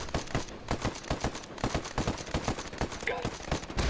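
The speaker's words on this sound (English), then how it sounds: "Taking fire." Rapid bursts of automatic gunfire ring out in a firefight over an access point in a shooter video game, loud, close and almost continuous, with players' voices faintly mixed in.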